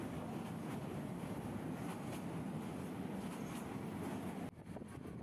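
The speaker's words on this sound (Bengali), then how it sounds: "রাতের এই অন্ধকার ছুঁয়ে এখন ট্রেন ছুটে চলছে চট্টগ্রামের উদ্দেশ্যে" Passenger train running through the night from Dhaka toward Chattogram, crossing Narsingdi district: a steady, loud broadband rumble of wheels and carriage noise throughout, briefly dipping near the end, with no talk.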